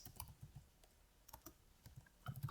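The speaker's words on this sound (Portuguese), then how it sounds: "Então podemos digitar o comando para recuperar." Computer keyboard keys being typed to enter a Linux PhotoRec recovery command, a quiet, irregular run of close clicks and taps with no voice over it.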